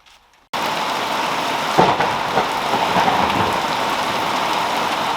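Heavy rain from an approaching thunderstorm starts abruptly after a brief quiet moment and continues as a dense, steady downpour, with a low rumble of thunder partway through.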